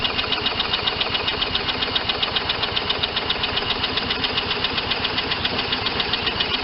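Lawn mower engine, its bolts working loose, runs after starting: a fast, even, close mechanical putter with a knocking pulse, loud and steady throughout.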